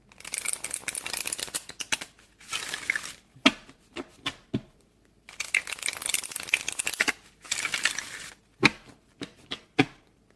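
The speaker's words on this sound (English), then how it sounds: "I'm going to shuffle again for you guys to see" Tarot cards are shuffled close up in bursts of riffling and flicking, broken by sharp single taps and slaps as the deck is squared, with no talking.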